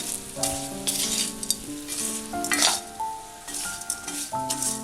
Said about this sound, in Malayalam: അതിന് ശേഷം ഒന്നും കൂടി ഇളക്കി കൊടുക്കാം.